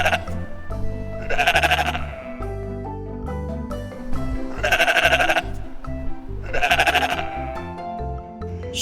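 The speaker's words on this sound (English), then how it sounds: "Sheep." Sheep bleat in three loud, wavering calls spaced a few seconds apart, with low rumbling background sound between them.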